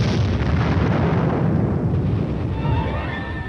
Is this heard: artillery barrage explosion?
yes